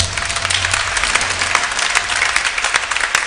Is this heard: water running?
no